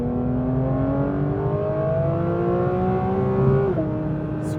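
A Porsche 911 GT3 accelerates hard out of a corner, its engine note climbing steadily in one continuous, loud, near drone, then briefly dipping at a gear change before rising again.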